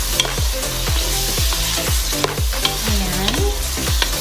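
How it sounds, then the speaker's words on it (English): Spicy pork liver with bell peppers and onions stir-fries in a hot pan, steady loud sizzling broken by rhythmic scraping strokes of the spatula about twice a second, with no talking. "Then, we will mix it."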